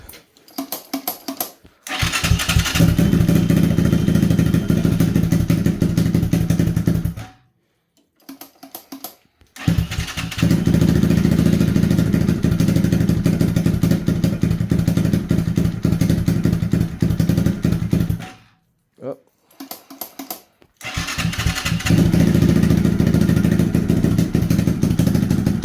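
A Lifan KP Mini 300 motorcycle with a 4-valve ZS175FMN engine and custom exhaust runs loud and close, revving in long sustained bursts that cut out twice to near silence before restarting.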